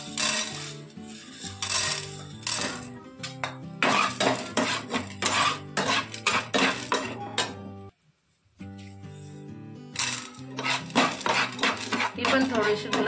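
Chana dal is roasted in a pan, with a spoon scraping and clinking against the metal in quick, busy strokes that continue nearly nonstop. A brief gap in the middle is followed by more stirring.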